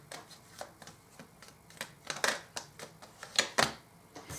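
Tarot cards are shuffled and drawn from the deck in a quiet room. Crisp riffling snaps and slaps come in uneven bursts and grow louder toward the end, with no talking.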